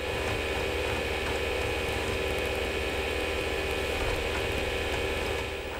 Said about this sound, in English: that noise you can hear is the fan and the hard drive that's inside of this device